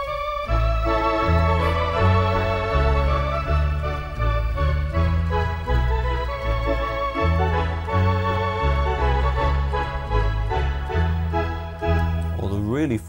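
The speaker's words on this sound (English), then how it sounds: "Or full theatre organ sound." Lowrey Stardust SU530 organ set to a full theatre organ voice plays rich, sustained chords with a moving melody and vibrato, steady and close, ending with a brief rising flourish.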